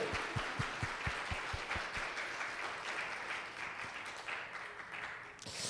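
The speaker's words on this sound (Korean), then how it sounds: "하나님께 우리 영광의 박수 한번 하십시다." A congregation claps during a church service, a sustained round of applause with a few sharp, rhythmic handclaps near the start, steady and moderately distant before easing slightly.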